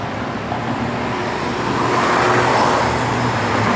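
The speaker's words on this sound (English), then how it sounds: "Good sounding dual exhaust. It's got Flowmasters." A 1970 Plymouth Road Runner with dual Flowmaster exhaust rumbles steadily. It is a continuous low engine drone that swells slightly louder partway through, with no voices over it.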